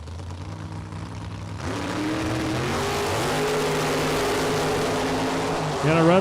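Drag racing cars, a Chevy II and a Corvette, accelerate down the strip at a Super Pro bracket event, with engines building from a distant rumble into a sustained loud roar, under an announcer's voice.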